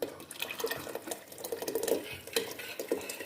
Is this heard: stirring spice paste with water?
yes